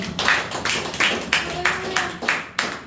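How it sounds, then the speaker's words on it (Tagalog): Congregation clapping hands in church, about eight loud claps in a steady even rhythm, close and crisp, with a faint voice underneath. "Palakpak sa Panginoon."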